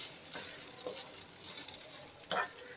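Fresh coconut roasting in a pan over medium heat, a quiet steady sizzle with soft scraping stirs, the loudest stroke near the end.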